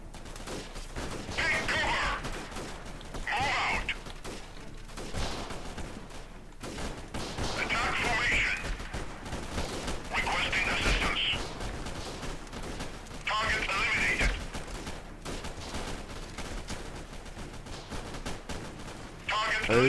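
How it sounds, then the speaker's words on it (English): Gunfire in the video game Freeman Guerrilla Warfare: repeated bursts of automatic fire, moderately distant, recurring every few seconds over battlefield ambience while people talk. "they're already firing at us"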